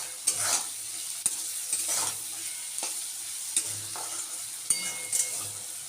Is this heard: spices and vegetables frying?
yes